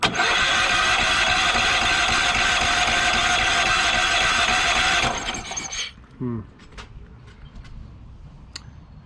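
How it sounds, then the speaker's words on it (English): A Yamaha generator engine cranks steadily on its starter without firing, a loud continuous mechanical whir for about five seconds that stops abruptly, followed by quieter clicks and handling noises. "I'm gonna hit the starter button one more time."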